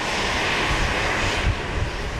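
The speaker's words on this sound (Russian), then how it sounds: "Пока самолет с двукратным чемпионом мира по греко-римской борьбе Мусой Евлоевым медленно подъезжает к аэропорту" A passenger plane slowly taxiing toward an airport terminal, its engines giving a steady, loud broadband roar with a low rumble that holds throughout.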